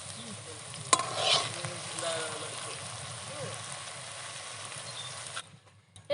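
Onions frying in a pan while making chicken biryani, a steady close sizzle with stirring scrapes and a few clinks, ending abruptly near the close.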